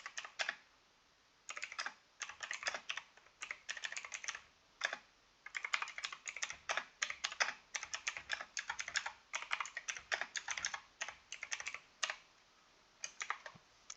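Steady typing on a computer keyboard as a quiz question is entered, quiet, fast bursts of key clicks with short pauses between words, close and without any talking.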